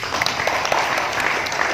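Brief burst of audience applause at a talk on industrial relations disputes, dense and fairly loud clapping lasting under two seconds.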